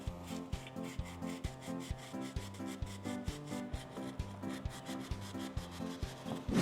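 A rusty motorcycle chain being scrubbed with a brush in steady back-and-forth strokes, a rhythmic, close rubbing scrape repeating about twice a second, with no voices over it.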